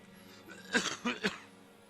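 A video game character gives a couple of short, throaty coughs close up, with a brief gap between them over faint background hum, in Disco Elysium Final Cut.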